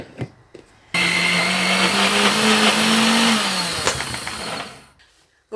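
A kitchen mixer grinder whirs loudly up close, blending a paste with grated coconut; the motor starts abruptly, holds a steady high whine for several seconds with a slight drop in pitch, then winds down to quiet.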